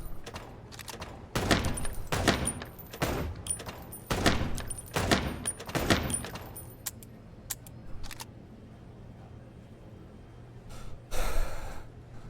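Gunshots in the noir detective game Chicken Police: several sharp, loud reports spaced with pauses, then a lone final blast, over a low steady hum with no talking.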